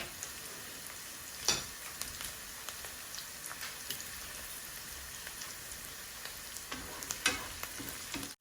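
Steady crackling sizzle of three dried chillies frying in hot oil, with occasional sharper pops and spits, close by and fairly quiet, no voices.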